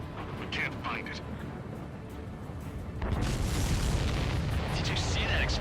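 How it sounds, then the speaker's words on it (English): A supply ship exploding in the flight combat game Ace Combat 7, with a deep rumbling boom that swells sharply about halfway through amid continuous jet and mechanical noise. "Did you see that explosion? Looks like that's one of them down."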